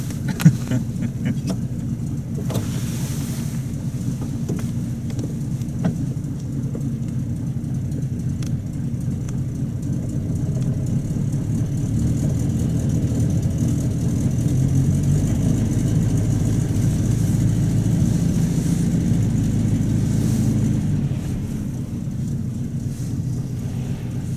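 A Buick Roadmaster's engine idles in gear, a steady low rumble close by that swells slightly midway and settles again, with no talking.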